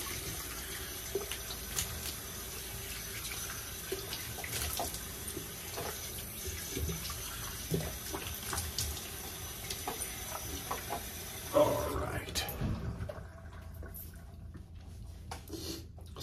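Tap water runs steadily into a sink to rinse a vintage 1956 Gillette safety razor, a continuous close splashing stream with small clinks, cutting off near the end to leave faint drips.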